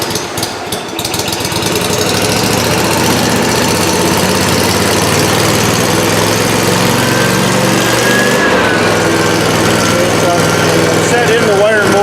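Miller Trailblazer 302 welder generator with the choke pulled on a service truck: a few starter cranks, then the engine catches and runs at a loud, steady, rattling idle, close by, with a slight change in pitch later.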